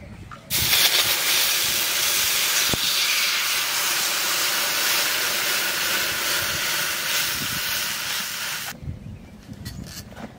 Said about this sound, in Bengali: মাছ ভাজা তেলের মধ্যে জল দিয়ে দেবো।